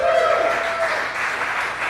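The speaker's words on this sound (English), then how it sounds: "Clap it up for me." An audience at a live comedy show applauds in a broad, steady wash of clapping and some crowd noise, fairly loud and continuous for a couple of seconds.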